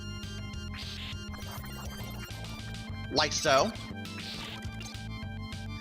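A rushing burst of water current shifting direction in the Super Castlevania IV video game, heard as two soft hissy swells under steady chiptune music, with a brief spoken remark between them.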